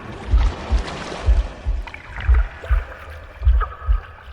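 Gurgling water in the video game The Last Campfire, a low rhythmic bubbling pulse repeating about every half second with a soft watery wash above, heard alone.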